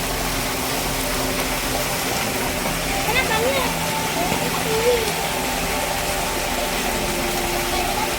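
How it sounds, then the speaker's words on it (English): A waterfall in a butterfly and bird garden at Ramoji Film City rushes in a steady, even roar that fills the whole stretch, with faint voices under it. "There's a beautiful waterfall."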